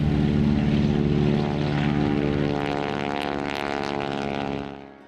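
A propeller aircraft like the UC-64 Norseman, a small single-engine plane, drones overhead with a loud, steady buzzing hum that holds for several seconds before fading away near the end.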